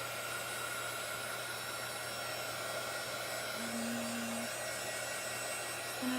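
A hair dryer blows steadily at close range, drying chalk paint in one continuous even whoosh with a low hum underneath, no pauses and no voices.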